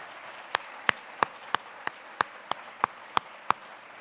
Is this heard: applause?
yes